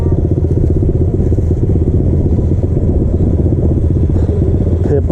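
A pit bike motorcycle engine runs loud and close in a steady, rough, throbbing idle that barely changes, with a faint clatter near the end.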